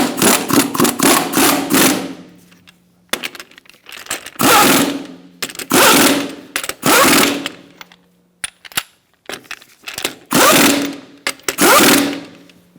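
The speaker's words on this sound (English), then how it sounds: "Now we're going to tighten up our lug nuts." A ratchet tightens the wheel lug nuts on a 2007-2017 Ford Expedition, giving a series of loud, close bursts of rapid mechanical clicking separated by brief pauses.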